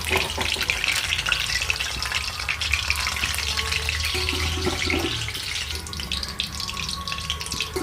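Oil sizzles and crackles steadily as potatoes fry until reddish in a pan for a chicken curry, a dense continuous hiss close by, with occasional clinks of stirring.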